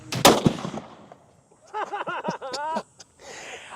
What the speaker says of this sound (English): let's go ahead and take this shot. Firing.